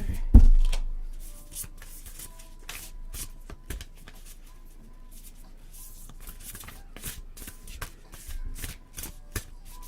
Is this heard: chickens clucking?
no